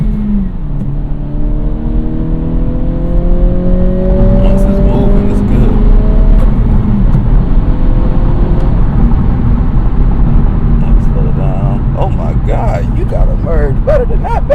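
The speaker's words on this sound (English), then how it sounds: "About to do the emerging speed on the highway. Show you how this car picks up speed." An Acura Integra accelerating onto a highway, heard from inside: the engine note climbs steadily through the gears, then settles into a constant loud road and engine drone.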